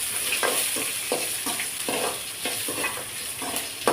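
Chopped onion fries in hot oil for a spinach stir-fry, a continuous bright sizzle broken by regular scraping stirs of a spoon against the pan, close and fairly loud.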